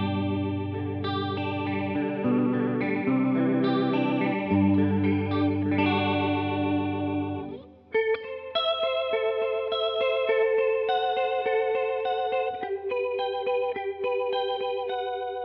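An electric guitar runs through a Walrus Polychrome flanger pedal, with sweeping, swirling chords up front followed by brighter picked single notes carrying the same wavering effect, and no voices.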